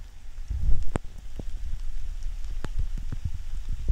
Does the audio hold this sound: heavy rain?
yes